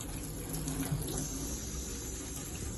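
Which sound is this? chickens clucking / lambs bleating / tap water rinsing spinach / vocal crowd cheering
tap water rinsing spinach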